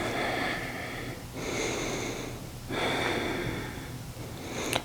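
Slow, deep breaths during a hip stretch in a yoga-style routine, close and fairly loud, with long airy inhales and exhales repeating about three times and no talk.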